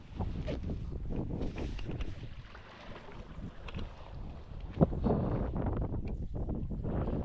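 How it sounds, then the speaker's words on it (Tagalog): Steady wind rushes over open water with a low rumbling buffet, loud and continuous, with a brief knock partway through. "Malakas na yung hangin."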